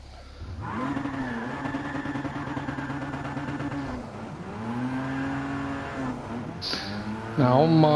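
A race car lapping a track in a driving game, a close, steady engine drone that shifts pitch through gear changes, ending with a rising rev and brief tire squeal.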